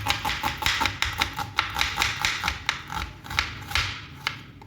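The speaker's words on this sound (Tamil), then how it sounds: "ஸோ இப்போ ஆனியனை கட் பண்ணிக்கோங்க." A knife chops onion into small pieces on a board, a quick, regular run of sharp close taps at roughly three to four strokes per second, with nothing else heard.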